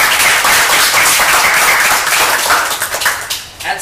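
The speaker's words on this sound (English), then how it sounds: "We applaud y'all for your hard work" Applause at a county historical society meeting, loud close clapping from a group that keeps up steadily for several seconds and begins to thin toward the end.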